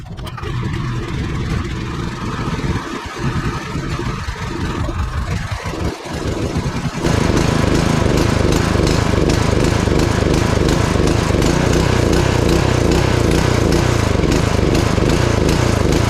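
A Husqvarna gas pressure washer engine runs loud and steady at close range, idling roughly at first and then jumping to a fuller, constant roar that holds to the end.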